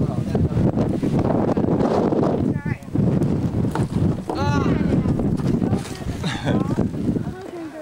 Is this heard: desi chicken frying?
no